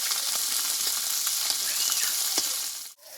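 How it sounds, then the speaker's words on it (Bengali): Continuous sizzle of small puti fish (pool barb) frying in a pan, with scattered pops and crackles, dropping out briefly near the end. "এদিকে মাছটা ভাজা হচ্ছে"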